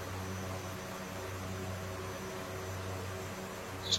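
An aircraft engine drones steadily during a landing approach, a constant broadband rumble at moderate level, with a couple of brief sharp clicks at the very end.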